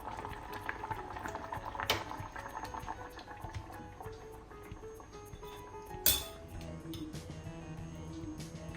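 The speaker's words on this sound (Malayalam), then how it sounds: "തിളച്ചു, നല്ലവണ്ണം തിളച്ചു." Sabarimala-style potato curry bubbles at a soft boil in a pot, a faint continuous simmer with scattered small pops and a couple of light utensil clinks.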